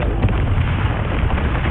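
A Confringo spell explosion in Hogwarts Legacy, a loud, dense, continuous fiery roar that fills the whole moment without letup, close and forceful, with no speech.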